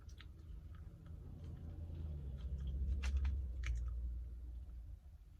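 Fast-food chicken sandwich is chewed close to the mouth, soft wet crunching and clicks repeating over a low steady background hum, with no speech.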